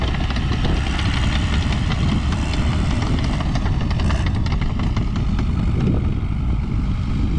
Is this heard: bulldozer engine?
yes